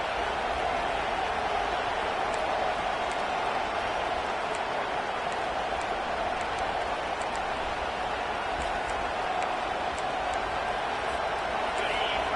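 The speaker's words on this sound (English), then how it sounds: "This crowd bringing the energy and noise early." A steady, dense roar of a large stadium crowd, continuous and loud throughout with no distinct peaks.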